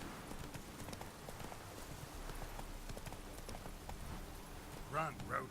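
A horse galloping in The Witcher 3 video game, steady rhythmic hoofbeats running under game ambience, with a brief creature-like cry near the end.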